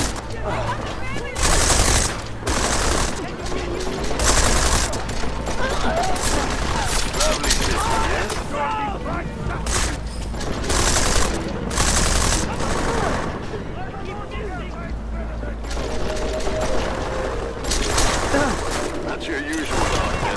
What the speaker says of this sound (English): Yes, who is shooting?